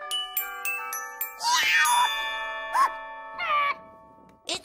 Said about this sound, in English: My scooter bell.